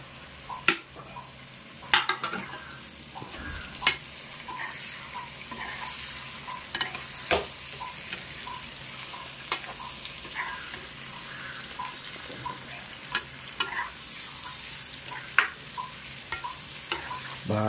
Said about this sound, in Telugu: బాగా కలబెట్టుకొని బాగా మగ్గనిద్దాం.